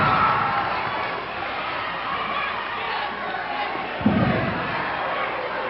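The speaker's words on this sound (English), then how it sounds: "The fans cheering Chris Carter on." Wrestling crowd at a classic tag-team match cheering in a steady, roaring wash of noise, with a single thud partway through and a commentator talking over it.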